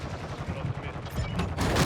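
Rapid gunfire bursts in a shooter video game, sharp cracks clustering toward the end and rising in loudness, with a player's voice talking underneath.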